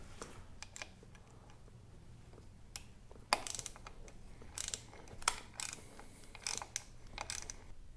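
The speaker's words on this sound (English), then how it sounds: "I'm gonna go ahead and loosen the bracket for the clutch." A 10 mm bolt being loosened on the clutch bracket of a 2019 Yamaha Bolt motorcycle: close, sharp metallic ratchet clicks and tool knocks in irregular bursts, with quiet pauses between them.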